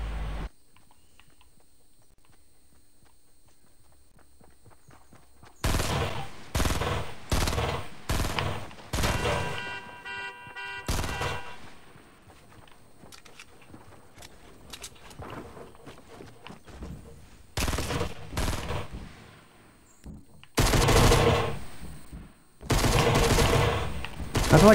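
Fortnite gunfire rattles in loud rapid bursts, several volleys of quick shots separated by quieter gaps, with some steadier firing in between.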